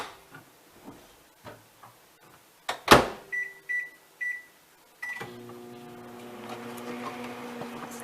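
A microwave oven baking an apple: clicks and a series of short electronic beeps, then the oven starts with a steady low hum close by.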